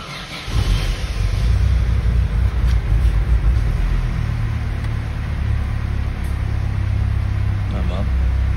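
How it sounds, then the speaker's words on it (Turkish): An LPG-converted petrol car with a sequential gas system, fresh after an LPG filter change, starts and settles into a steady, close, low engine idle that holds throughout. "Şimdi aracımızı bir çalıştıralım."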